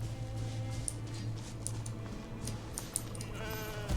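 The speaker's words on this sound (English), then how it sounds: "It is a jumping goat." A jumping goat in a video game bleats over a steady background hum and keyboard clicks, with a bleat rising toward the end.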